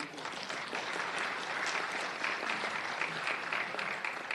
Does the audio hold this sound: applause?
yes